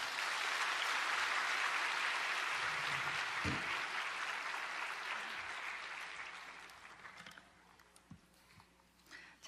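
A church congregation gives loud, sustained applause to welcome a pastor, a dense hall-wide clapping that gradually tapers off after about six seconds into scattered claps and room noise.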